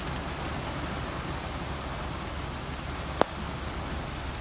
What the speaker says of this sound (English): so we may have a little bit of hail too